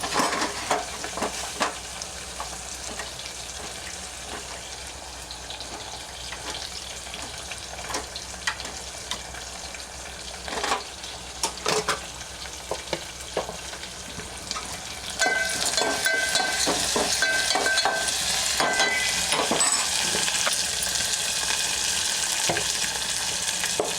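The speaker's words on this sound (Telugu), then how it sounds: "పచ్చిమిరపకాయ, టమోటా బాగా మగ్గాలి, ఫ్రై చేయాలి." Green chillies and tomato fry in a pan for a curry, a steady crackling sizzle throughout with occasional spoon scrapes and stirring clicks, growing louder and brighter in the second half.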